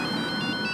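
A phone ringtone chimes steadily for under a second, a continuous tonal ring with a faint voice-like murmur underneath.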